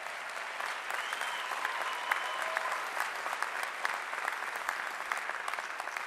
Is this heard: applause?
yes